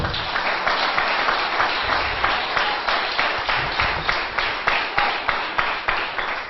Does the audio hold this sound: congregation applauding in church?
yes